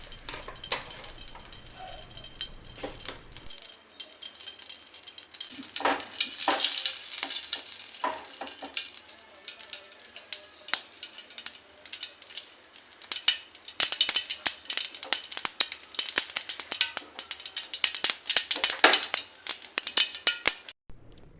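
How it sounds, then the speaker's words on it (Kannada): Mustard seeds crackle and splutter in hot oil in a pan, with a dense stream of sharp pops and sizzling that grows busier partway through and stays loud, close and alone. "ಸಾಸಿವೆ ಎಲ್ಲ ಸಿಡಿದಿದೆ"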